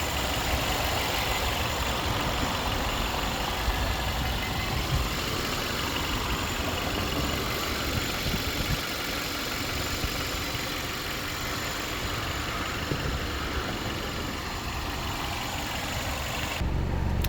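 A 2019 Mercedes A220 engine idling under the open hood, a steady, even hum with a broad hiss of fan and air noise, continuous and moderately quiet, with no voices.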